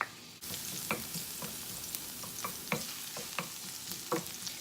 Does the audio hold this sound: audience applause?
no